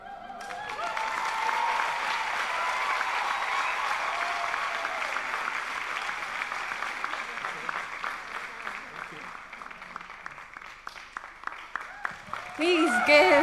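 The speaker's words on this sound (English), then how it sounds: "Please give Brian another warm round of applause" Warm applause from a live storytelling audience in Nairobi, a dense sustained patter of many hands clapping for a storyteller, loud and steady before thinning out near the end.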